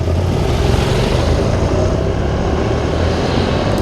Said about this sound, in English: Getting more into the feel of the bike there, enjoying the acceleration